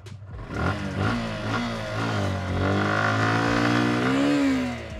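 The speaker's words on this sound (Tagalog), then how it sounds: "So sakyan na natin tong Suzuki Gixxer." A 2022 Suzuki Gixxer FI motorcycle pulls away and is ridden, its mid-pitched single-cylinder engine revving up and shifting with a steady drone that stays close and fairly loud throughout.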